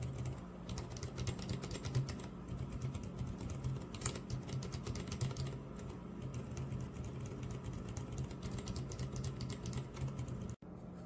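A Royal Kludge RK84 keyboard with silent-modded loop switches is typed on continuously, producing soft, muted, rapid keystrokes at close range with no talking.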